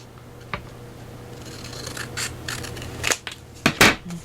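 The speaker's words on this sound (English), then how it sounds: "I can just use my scissors and do the rest of this" Scissors snip through paper roses for a mixed-media journal tag, with a few scattered cuts and rustles building to several sharp snips near the end, close and clear with no talking.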